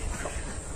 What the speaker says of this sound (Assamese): হাঁহ আছে পেক পেক কৰি আছে